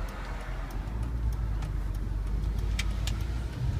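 A 2004 BMW E46 M3 coupe drives at a steady pace, its engine producing a continuous low drone with road rumble and small interior ticks, no voices.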